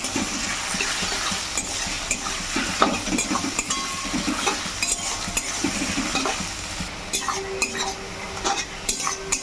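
Onion frying in oil for a coriander chicken curry, a steady close sizzle with repeated scraping and clinking of a spatula stirring in the pan.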